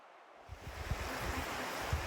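Rushing water from Blue Spring at Alley Spring in the Missouri Ozarks, a steady soft broadband wash of flowing spring water with faint low rumble, continuous and somewhat distant.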